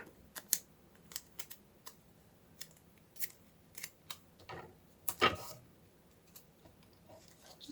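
Scissors snip through paper tape in a string of short, crisp cuts spaced irregularly, close and quiet, with one longer slicing sound midway and no voices.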